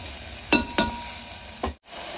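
Tomato and spices for soya chunk pulao sautéing in a pan, with a steady low sizzle broken by two quick scraping stirs and a later scrape, then a brief pause.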